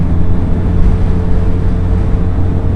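A Harley-Davidson X500 motorcycle engine drones steadily while riding at around 100 km/h, a loud continuous low rumble mixed with heavy wind buffeting and no distinct rev changes.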